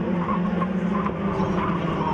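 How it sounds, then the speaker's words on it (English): Formula 4 race cars' tires squeal through turn 2 at a racing festival, a continuous, fairly loud screech layered with engine roar from the track. "Squealing out there as they went through turn 2."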